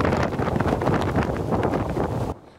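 Strong typhoon winds from Typhoon Doksuri buffet the microphone in a steady, loud broadband roar with gusting surges, cutting off abruptly near the end.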